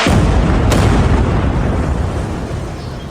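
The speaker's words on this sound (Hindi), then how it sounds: "इस हमले से पूरी इमारत जो है वो ढह गई है, नेस्तनाबूद हो गई है।" An explosion during an attack on Beirut as a building collapses: a loud, sudden broadband blast with a sharp crack near the start, followed by a heavy rumbling roar that slowly fades, with no speech.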